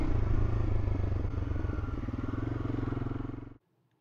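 A 1992 Yamaha motorcycle climbs a rocky road, its engine loud and close with a steady, pulsing drone and some clatter, running for about three and a half seconds before cutting off abruptly.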